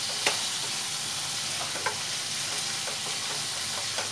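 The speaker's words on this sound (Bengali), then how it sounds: "আর একটু নাড়বো" Pointed gourd masala with slit green chillies, Kashmiri red chilli and a pinch of sugar fries in a pan, a steady sizzle broken by a few light scraping stirs.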